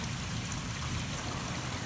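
Steady rain falls on a wet evening outdoors beside a field, a constant hiss and patter with a low rumbling wash underneath, close and even throughout with no voices.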